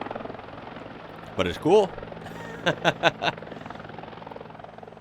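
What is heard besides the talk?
helicopter flying in Australian emergency video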